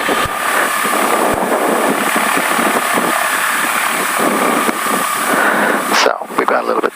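Diamond DA42-VI twin-engine aircraft, engines idling as they warm up, heard close and steady as a droning hum with a prominent tonal whine, and a voice speaking over it.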